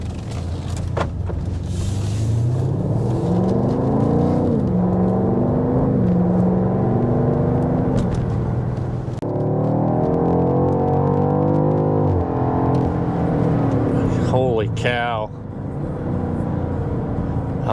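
A BMW X6M Competition on all-season tires accelerates hard, its engine rising in pitch through repeated gear pulls with a steady road rumble, heard from inside the cabin; brief voices near the end.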